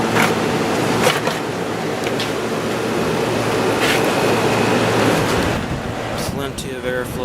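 A Hotpoint 8,400 BTU window air conditioner blows a steady, broadband rush of air at close range, a constant even whoosh with a low hum beneath and a few brief clicks and rattles near the end.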